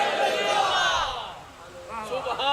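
A crowd at a religious gathering roars back a loud, drawn-out shout in answer to the slogan Nara-e-Wilayat, then dips briefly before a second rising wave of voices.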